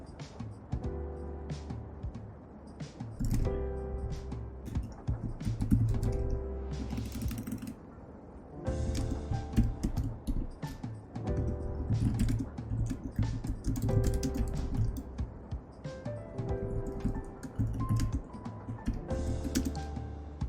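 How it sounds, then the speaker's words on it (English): Rapid typing on a computer keyboard, close and continuous, with irregular bursts of key clicks and brief pauses. "Can you guys hear me typing?"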